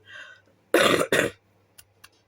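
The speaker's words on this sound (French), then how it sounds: "je suis vraiment désolée avec ma toux" A woman at a craft table making an art collage gives two harsh, close coughs, then clears her throat twice more quietly, with silence in between.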